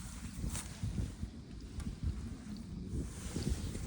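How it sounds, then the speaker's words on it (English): Gusty wind outdoors at a smallholding with poultry coops, buffeting the microphone in uneven bursts, a low rushing roar that rises and falls with no talk over it. "It's quite windy though"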